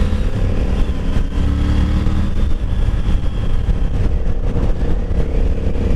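A 2021 Triumph Tiger 900 Rally Pro motorcycle accelerates hard up close, its engine roaring steadily and loudly throughout with heavy wind rush and no pause.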